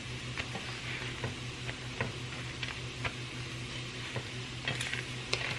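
Chiles roasting on a hot griddle, giving a steady low sizzle with scattered crackles and light ticks from turning them, faint and continuous with no talking.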